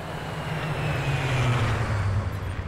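A propeller or jet aircraft in Ghost Recon Future Soldier passes overhead as a steady, broad low drone that swells slightly mid-pass and then eases off, heard alone without talk.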